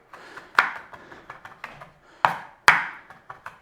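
Garlic mashed and chopped with a knife on a board for a black pepper beef stir fry, a run of sharp wooden knocks and taps, a few heavy thumps standing out among lighter irregular chops.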